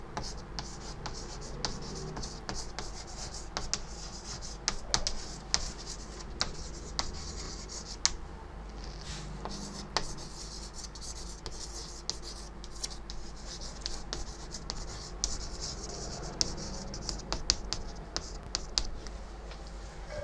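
Pen writing by hand on paper, a quiet continuous scratching with frequent short strokes and taps, close and faint, running steadily throughout.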